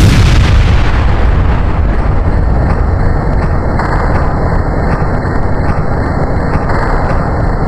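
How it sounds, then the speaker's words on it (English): A grenade blast in the Melon Playground video game: a loud, dense, sustained roar of explosive rumble and crackle that fills the whole stretch, with no talking. "he threw a grenade at his team, so he's done for"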